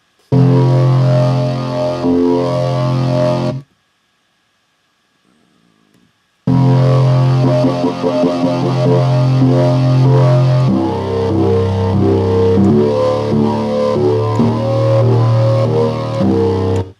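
Loud, distorted Nero-style wobble bass from the Massive synth, growling, cutting out briefly to near silence before returning with the same buzzing, modulated tone.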